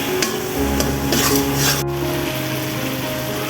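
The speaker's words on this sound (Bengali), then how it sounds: "তো এখন কিছুক্ষণ নাড়াচাড়া করে নিলেই হয়ে যাবে খেসারি ডালের মজাদার ভর্তা" A khesari lentil mash (bhorta) is stirred in a pan. A spatula scrapes and knocks against the metal in short strokes over a soft sizzle, ending in one sharp clack.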